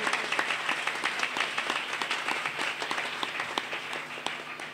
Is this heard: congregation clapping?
yes